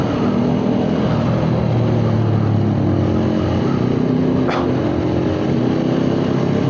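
A Suzuki Satria FU motorcycle engine revving hard while accelerating on a busy town street, a loud, continuous buzzing drone with a brief sharp rising whine near the end.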